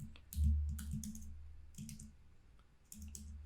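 A computer keyboard clatters with a few quick, faint key clicks in short clusters, close but quiet.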